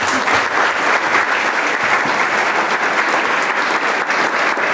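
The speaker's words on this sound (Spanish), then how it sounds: "El aplauso fuerte, por favor." A crowd at a Veracruz Intercultural University ceremony breaks into strong, sustained applause, dense and steady clapping filling the whole stretch with no speech over it.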